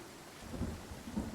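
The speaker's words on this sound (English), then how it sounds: "Yes, I know that it's raining, but I don't care." Steady rain with low rolling thunder in the fantasy role-playing game Pathfinder: Kingmaker, a continuous dense wash with soft low rumbles swelling twice.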